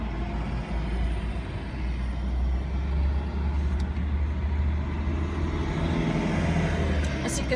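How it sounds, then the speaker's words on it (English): A big city bus rumbles past on a street in Perth, Western Australia, a steady loud engine drone with low rumble and traffic noise throughout. "As you can see, the big bus there"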